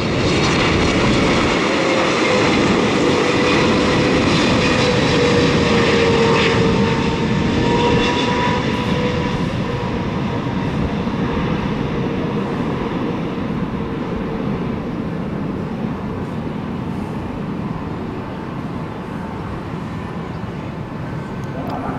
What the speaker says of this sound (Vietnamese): Còn đây là Boeing 777-300ER của EVA Air, chiếc máy bay hạ cánh xuống đường băng 25 phải.